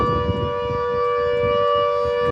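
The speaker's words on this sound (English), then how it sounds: "the flood warning siren for the River Nen" A loud, steady flood warning siren for the River Nene holds a constant wailing tone throughout, then cuts off abruptly at the end.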